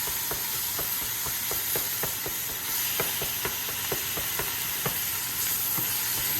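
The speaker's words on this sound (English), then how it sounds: "So while this is searing off" Meat for chili sears in a hot pan with a steady bright sizzle, broken by regular scraping stir strokes close to the listener, with no talk.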